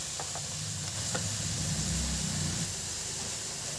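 Onion-tomato masala gravy with chunky onion and tomato pieces sizzles steadily in a pan as it roasts for dahi bhindi, a continuous close frying hiss with a few soft stirring scrapes and no voices.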